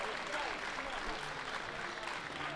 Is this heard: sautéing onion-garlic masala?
no